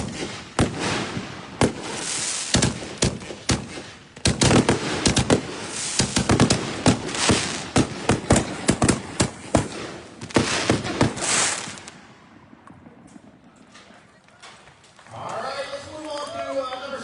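A box of professional consumer fireworks being set off at a demo shoot, rapid loud bursts and crackling volleys firing in quick succession for about twelve seconds, then quieter scattered pops with a voice briefly heard at the end.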